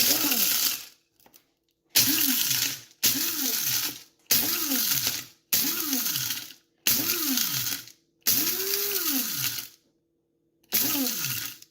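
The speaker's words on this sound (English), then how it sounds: "when we start grinding it, you want to pulse it instead of just holding it down" Blender pulse-grinding dehydrated sourdough starter: seven loud whirring bursts of about a second each, with a rising-falling motor pitch, separated by short silences.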